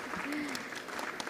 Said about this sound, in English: Nicole and her team are very deserving of all the applause